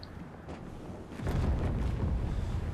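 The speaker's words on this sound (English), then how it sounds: "I thought it was a big explosion." A large explosion in the video game Clair Obscur: Expedition 33: after a quieter rumbling stretch, a deep, loud boom swells in at about a second and a half and rolls on as a sustained low roar with no talk.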